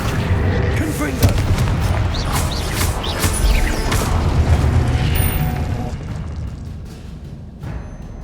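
Confringo, the explosive spell in Hogwarts Legacy, fires off as a series of booming blasts and crackling bursts layered over dense game effects and music, loud and continuous throughout.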